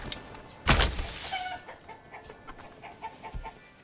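Chickens clucking in the medieval town-building game Manor Lords, a loud burst near the start followed by scattered soft clucks and faint village ambience.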